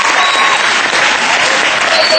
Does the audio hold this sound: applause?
yes